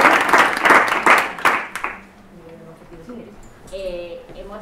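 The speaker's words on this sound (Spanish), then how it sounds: "Aplausos." Classroom students breaking into a short burst of loud, close applause that dies away after about two seconds, followed by quieter voices and murmuring.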